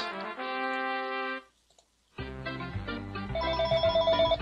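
An in-game telephone ringing in the business-sim video game Zapitalism, sounding as a steady electronic ring tone that stops briefly, then returns layered with a fuller jingle and pulsing tones, fairly loud and close with no talking.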